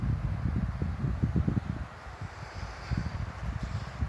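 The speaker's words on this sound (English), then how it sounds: "Got really blowy all of a sudden." Strong, gusty wind at Twin Lakes, Colorado, buffets the microphone outdoors with a steady low roar and rising and falling gusts, loud and close, with no voices.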